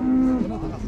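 A cow lowing at the Uzynagash cattle market, one short, loud, close moo over background crowd murmur and talk.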